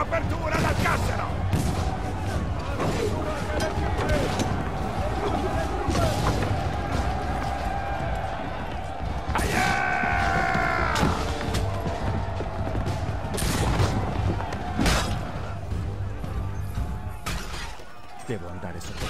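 Repeated heavy ship's cannon blasts and crashing impacts boom through a chaotic battle in Assassin's Creed III, with shouting voices and clashing noise throughout.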